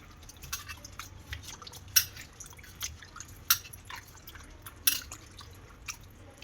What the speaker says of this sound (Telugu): దీన్ని బాగా శుభ్రం చేసుకోవాలి వాటర్ పోసుకొని